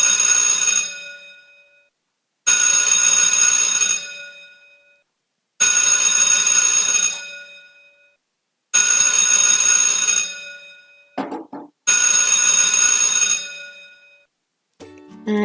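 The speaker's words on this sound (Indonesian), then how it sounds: "itu dia contoh bunyi bel sekolah yang berdering" A school bell rings loudly in five long electric bursts, each about a second and a half, separated by short silences, with a brief clatter near the end and no talking.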